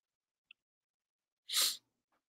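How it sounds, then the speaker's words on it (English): A single sharp sneeze bursts out nearby after a faint click, followed by a soft breath in the quiet. "I just got hit with a sneezing frenzy of 3 sneezes"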